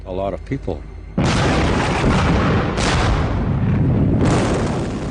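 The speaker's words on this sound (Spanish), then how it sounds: "El depósito de municiones del Tonquin se incendió durante el combate y explotó." The ammunition store aboard the ship Tonquin explodes mid-battle: a deep, sustained roaring blast sets in after a brief moment of talk, with further surges of rumble, heavy and close throughout.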